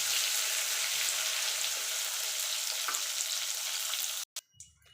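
Eggplant slices fry in oil seasoned with salt and turmeric, holding a steady, close sizzle for about four seconds before it cuts off abruptly, followed by a brief clunk and quiet.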